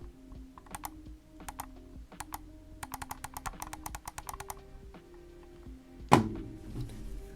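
Razer Viper V2 Pro mouse side buttons clicked repeatedly, crisp close clicks at first spaced then in a quick run, followed by a single louder thunk, quiet background.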